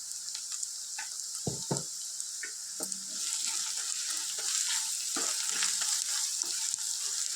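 Ginger garlic paste sizzles in hot oil in a pan for an onion egg curry, a steady bright frying hiss with a few knocks of a spoon against the pan early on, growing a little louder midway.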